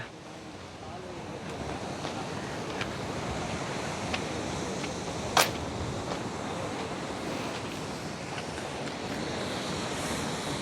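Sea waves roar steadily against a coast where a seawall surrounds a storm-damaged seaside temple, a dense continuous wash with wind buffeting the microphone and one brief sharp knock midway.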